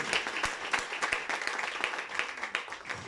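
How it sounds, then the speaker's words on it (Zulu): Audience applause at a gathering, a steady patter of many hands clapping with sharper individual claps cutting through, moderately near and continuing throughout. "Sibashayela ihlombe."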